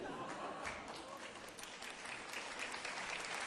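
Audience applause at a prosecution-reform talk concert, a soft, distant patter of many hands clapping steadily and faintly throughout.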